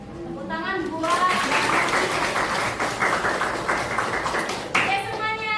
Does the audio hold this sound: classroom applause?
yes